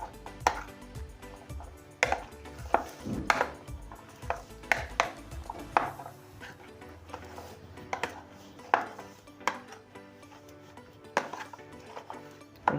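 A spoon mixes chana chaat in a bowl, making scattered sharp clinks and scrapes against the dish in an irregular rhythm, fairly quiet and close, with no talking.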